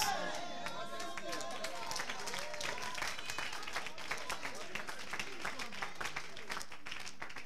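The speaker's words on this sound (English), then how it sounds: "This your clapping is not strong." Congregation clapping at a church sermon, uneven scattered claps mixed with crowd murmur and voices, moderately loud and continuous throughout.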